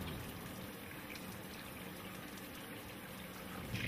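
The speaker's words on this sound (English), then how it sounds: "Perform routine washing of hands and arms using antiseptic soap" Water runs steadily as hands and arms are washed with antiseptic soap during a surgical scrub, a soft continuous pouring and splashing stream close by with no talk.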